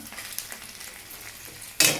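Rice grains fry in hot oil in a pan: a low, continuous crackling sizzle that swells into a sudden louder burst of spattering near the end.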